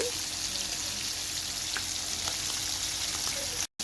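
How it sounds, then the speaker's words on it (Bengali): Hilsa fish pieces coated in turmeric, chili and salt frying in oil, a steady close sizzle with occasional crackles, cut by a brief dropout near the end. "মাছগুলি ভেজে নিচ্ছি"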